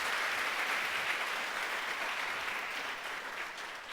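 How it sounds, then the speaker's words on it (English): Sustained applause from a live event audience after a panel discussion, a dense wash of many clapping hands that holds steady throughout and eases slightly toward the end. "So I'm going to need you to give them another huge round of applause."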